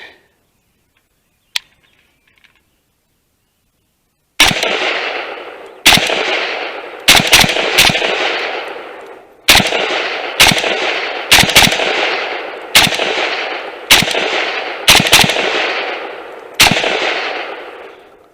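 A WASR-10 AK-47 rifle fires at a range, with about a dozen loud, sharp shots. The shots come singly and in quick doubles at irregular intervals, each followed by a short echoing decay, after a quiet opening.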